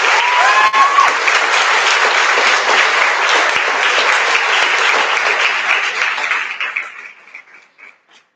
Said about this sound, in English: Let's give a round of applause and appreciation for these people.